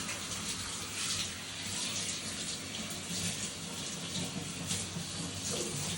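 Running water from a tap pours steadily over a dog being wetted down in a bathtub, a continuous, close, even rush with no break across the whole stretch.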